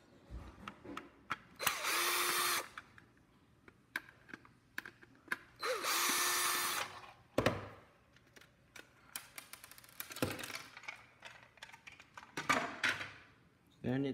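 A power screwdriver backs screws out of the rear housing of a Breville pressure cooker in several short whirring bursts, close and loud, with clicks and handling noises between them.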